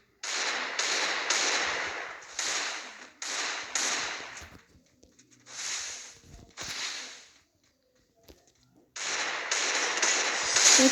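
Desert Eagle pistol shots go off in Free Fire MAX, a mobile battle game. They come as sharp, bright bursts in irregular clusters with short gaps between groups, fairly close and with no talking.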